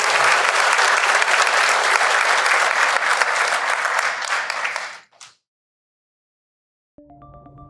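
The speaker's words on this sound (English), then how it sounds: "Round of applause for everyone who shared," Sustained audience applause at a podcast or live-show recording, loud and dense for about five seconds before cutting off abruptly, followed by silence and a brief musical tone.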